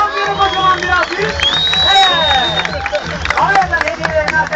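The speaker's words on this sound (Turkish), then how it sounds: "Şampiyonu kocaman bir alkış." Crowd applauding and cheering for the champion, loud clapping with shouts and whistles, dense and sustained with a rhythmic low thumping underneath.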